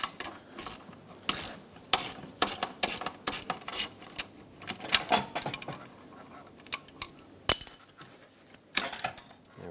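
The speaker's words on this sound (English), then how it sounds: "Now we can freely move this around and finish removing this 10mm" A ratchet clicks in repeated short bursts, close and fairly quiet, as a 10mm seat bolt is loosened inside a 2008–2010 Ford F-450 Super Duty cab.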